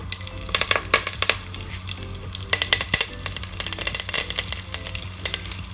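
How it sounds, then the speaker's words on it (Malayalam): Beef frying in a pan while being stirred, with a steady loud sizzle and crackle and the scrape of a spoon through the meat, no voices. "അധികം ഫ്രൈ ആവണ്ട, ഒരു ചെറിയ ബ്രൗൺ ആകുന്ന വരെ ഒന്ന് ഇളക്കി കൊടുക്കുക."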